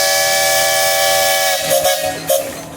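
Steam whistle on an antique steam tractor at a machinery parade, blowing a long, loud, steady hissing tone that breaks into a few short bursts near the end.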